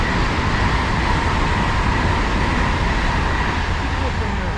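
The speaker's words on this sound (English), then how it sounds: "this is Maidenhead station, and there's a passing IET" An IET intercity train passes through Maidenhead station, a steady loud rumbling roar of wheels and motors that holds at a constant level throughout with no other sounds standing out.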